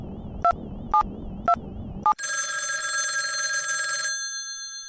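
A phone in a PC adventure game rings four times in short, regular bursts after dialing, then a long steady electronic tone holds for about two seconds before fading.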